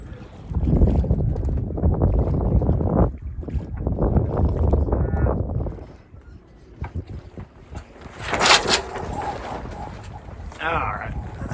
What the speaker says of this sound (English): That's some wind. And we're actually picking up speed.